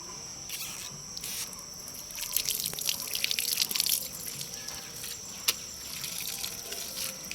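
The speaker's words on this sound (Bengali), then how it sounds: "দাঁড়ান পাটা ধুয়ে নি" Water splashes and trickles as muddy feet are washed outdoors beside a pond, fairly faint irregular pouring and splashing with a few drips, over a constant chirp of crickets or insects and no talking.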